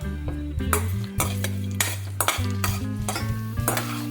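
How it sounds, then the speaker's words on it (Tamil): Urad dal, dried red chillies and cumin frying in oil in a kadai over medium flame, heard mostly as repeated loud metal scrapes and clanks of a spoon against the pan with a light sizzle underneath. "இந்த பருப்பு மிளகா வத்தல் வந்து பாத்தீங்கன்னா மீடியம் ஃப்ளேம்ல ரெண்டு மூணு நிமிஷம் நல்லா நம்ம வந்து இந்த எண்ணெயில வறுத்துக்கலாம்"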